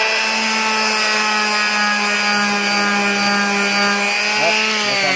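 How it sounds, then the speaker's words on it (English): A Ryobi orbital sander runs continuously, sanding wood, with a loud steady motor whine and a layered buzzing hum that holds level throughout. "So yeah, it's sanding."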